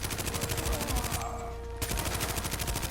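Rapid automatic gunfire from a weapon in Call of Duty Black Ops 2 rattles in fast, evenly spaced bursts. A brief pause breaks the firing midway before the steady stream of shots resumes, loud and close.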